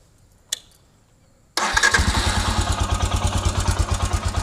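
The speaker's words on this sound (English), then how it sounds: "I'll start the engine." A Royal Enfield Himalayan motorcycle, carburetor tuned for high altitude, fires up after a brief click, then settles into a loud, steady, close-up idle with an even thumping pulse.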